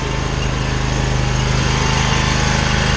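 A pressure washer's small gasoline engine runs steadily at close range, a loud even drone with a buzzing hum and no pauses or speech.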